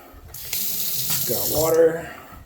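Water runs steadily from a bathroom vanity sink faucet in a house, a close, continuous splashing rush that swells and brightens as the stream fills the basin before easing off.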